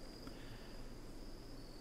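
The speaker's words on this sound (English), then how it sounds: "he's out there listening to the crickets and tapping away" Crickets chirping at night in the video game RimWorld, a faint steady high trill running continuously under a low ambient hum with no pauses.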